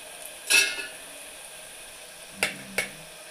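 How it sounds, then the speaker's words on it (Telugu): Onions frying in oil for chicken curry give a faint, low sizzle beneath a few sharp clinks of a utensil stirring in the pan, one early and two close together near the end. "ఇక్కడ చికెన్కి ఆనియన్స్ అనేది ఫ్రై అవుతుంది"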